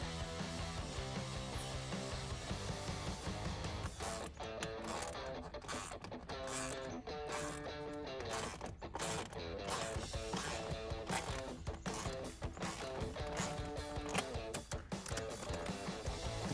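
A hose clamp is tightened on the cold air intake coupling of a 2011-2019 Dodge Challenger during an aFe Momentum GT intake install. Close, steady mechanical ratcheting and clicking runs for about sixteen seconds with no talk.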